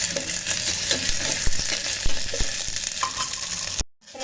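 Onions fry inside an electric kettle, a steady close sizzle with a few soft stirring knocks before it cuts off abruptly near the end.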